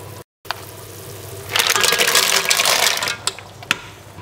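Mussels tipped into a pan of liquid just coming to a boil, a burst of clattering shells and rising sizzle over a steady background hiss, close and fairly loud.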